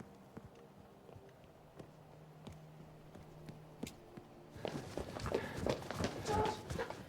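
A thousand footsteps marching in unison in an audio drama, starting faint and then swelling into a loud, dense, rhythmic tramp that draws closer.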